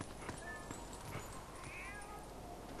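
Cats meowing in the video game Zelda: Twilight Princess, two short, thin meows rising over a constant faint background hum.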